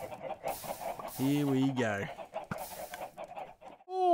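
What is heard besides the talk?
chickens clucking in video game Minecraft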